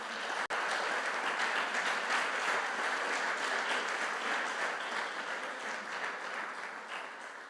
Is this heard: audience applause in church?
yes